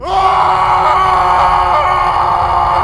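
A man screams in agony as long, thick fingernails dig into and tear at his foot in a haunted hospital basement, a single loud, sustained cry that holds steady with no break or talk.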